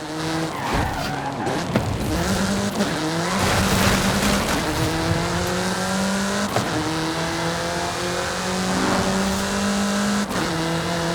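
Forza Horizon 5 race car revving hard and accelerating through gear changes, tires squealing and skidding as it corners, loud and steady from start to finish with no talking.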